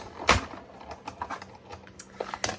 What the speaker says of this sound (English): We're going to run it through our cut and emboss machine.